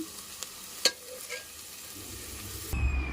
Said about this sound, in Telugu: ఆనియన్స్ బాగా వేగిన తర్వాత పచ్చిమిర్చి వేసాను